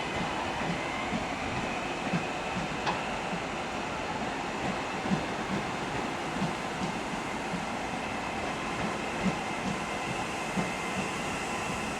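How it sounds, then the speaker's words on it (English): A British Rail Class 331 electric train pulls out of Leeds station, its steady rolling rumble and rhythmic wheel clatter carrying through the whole stretch at moderate distance, with no talk. "we have now departing 331106 with the 1221 service to Doncaster via Wakefield Westgate"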